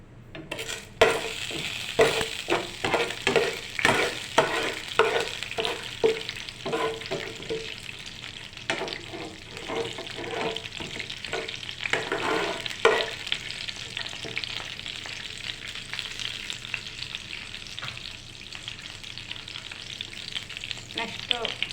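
Urad dal and chana dal spluttering in hot oil for tempering, a dense, continuous crackle and sizzle with rapid popping bursts and occasional spoon stirs and pan clinks, close and fairly loud throughout.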